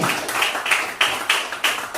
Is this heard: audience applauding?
yes